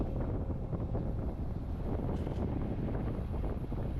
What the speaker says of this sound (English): We've got a strong breeze.